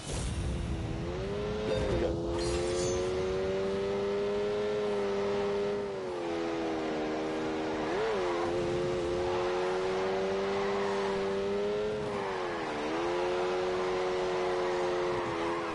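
A Lamborghini engine in The Grand Tour video game drones steadily at high revs, its pitch dipping and climbing with gear changes and throttle lifts, loud and continuous throughout with no talking.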